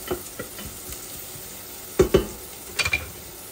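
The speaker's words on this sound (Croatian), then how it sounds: "Luk je počeo da mirše, sad ćemo ga malo izmišati da nam umeče." Onion sizzling softly in a pan while being stirred, with a few sharp scraping knocks of the utensil against the pan partway through; quiet and close, no talking.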